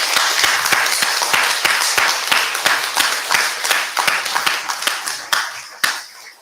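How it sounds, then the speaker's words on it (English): An audience at a school speech day applauds, many hands clapping in a loud, brisk patter that thins and tapers off toward the end. "let's give a really big round of applause to all your teachers"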